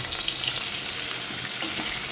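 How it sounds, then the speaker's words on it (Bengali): Pieces of chicken fry in hot oil on a low-turned stove, producing a loud, dense, unbroken sizzle heard up close with no voices. "প্রথমে আমি মাংসটা একটু ভেজে নিব"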